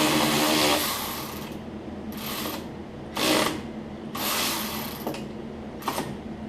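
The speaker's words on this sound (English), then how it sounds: "What I like about this tool is it gets them tight, but it won't over tighten them." A power tool runs nearby in repeated bursts while tightening the intake bolts on a Briggs & Stratton V-twin engine of a Cub Cadet zero-turn mower, about five short whirring pulses with pauses between them.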